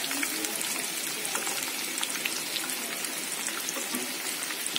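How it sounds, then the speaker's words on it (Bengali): Chicken pieces, already boiled to medium, frying in a pan with a steady dense crackle and spatter throughout, close and fairly loud, with no talk. "চিকেনটা যেহেতু সিদ্ধ করা আছে, মিডিয়াম আছে, তারপরেও আমি ভাজতেছি"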